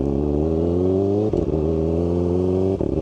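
Kawasaki ZX-4RR motorcycle engine revving high and rising in pitch, with two brief quick-shifter cuts as it shifts up, loud and close with no talk.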